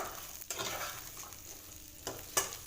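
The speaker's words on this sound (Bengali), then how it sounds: "ওই একই তেলে আমি আর তেল দিইনি এখানে সবজিগুলোকে সমস্ত দিয়ে দিলাম দিয়ে নাড়াচাড়া করব" Mixed vegetables stirred in leftover oil in a pan for a vegetarian breakfast curry, a soft steady sizzle with scraping spoon strokes near the middle and end, no one talking.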